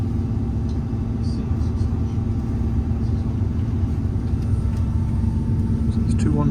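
Class 158 two-car diesel train running, a steady low engine rumble and drone with faint higher squeals and clicks, heard from on board, continuous and fairly loud.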